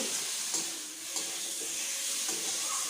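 Masala being sautéed in a pan for a fish curry, a soft continuous sizzle with a few light stirring scrapes, heard close and alone without talk.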